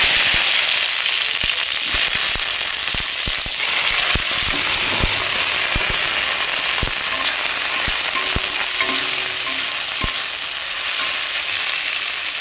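Grapes dropped into hot oil with fried mustard seeds, a loud continuous sizzle with sharp spitting crackles and pops scattered throughout, close and without talk.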